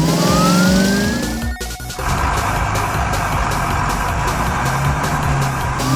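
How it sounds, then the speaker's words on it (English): A police car's siren winds up as the chase begins, with a rising wail and then a steady engine and road roar, close and loud, with no talk. "The police car turns on its lights and gives chase."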